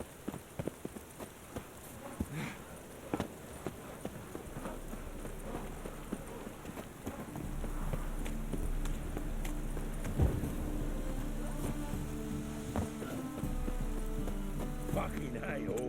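A horse gallops in The Witcher 3 video game, its rhythmic hoofbeats pounding under a low rumbling game soundscape that grows louder and fuller partway through.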